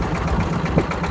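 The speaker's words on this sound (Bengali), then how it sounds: "আমরা যে ট্রলারটি নিয়েছি মোটামুটি মাঝারি আকৃতির একটি ট্রলার এবং আমাদের ট্রলার মাঝি মনির ভাই।" Steady drone of a medium-sized trawler boat's engine at a river ghat in the Chalan Beel wetland, a continuous low rumble running alone throughout without speech.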